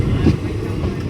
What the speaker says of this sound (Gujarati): ખાકરિયા રેલવે સ્ટેશનથી ગાડી ઉપડી ગઈ છે